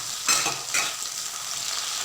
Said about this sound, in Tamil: இப்போ நான் பீர்க்கங்காய் ஆட் பண்ணிக்கிறேன்.